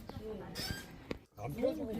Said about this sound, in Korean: 다양한 새소리도 들어볼 수가 있습니다.